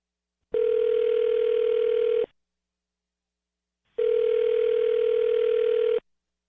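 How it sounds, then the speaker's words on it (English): Two steady bursts of telephone dial tone, each lasting close to two seconds with a pause between, heard alone and clear before a phone number is dialed. "I'm going to dial her phone number right now."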